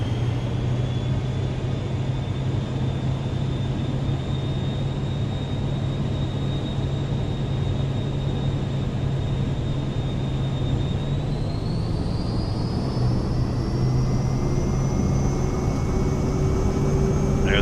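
A Vision Jet's engine in the MSFS 2024 flight simulator drones steadily with a high whine during the takeoff roll, and the pitch climbs noticeably partway through as power builds.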